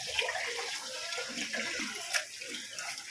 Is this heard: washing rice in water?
yes